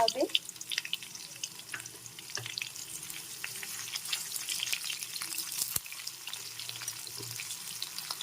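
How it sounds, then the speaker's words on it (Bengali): Chopped onions being stir-fried in a pot for chicken pulao, making a faint, steady sizzle with light scraping and occasional soft knocks from a stirring utensil. "পেঁয়াজটাকে একটু নেড়ে চেড়ে ভেজে নিতে"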